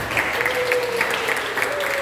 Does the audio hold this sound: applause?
yes